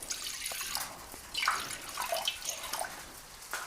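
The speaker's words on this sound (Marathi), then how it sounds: "ह्या पातेल्यात ना अगोदर पाणी ओतून घ्यायचंय" Water poured into a cooking pot makes faint, uneven splashing and gurgling in a few short surges.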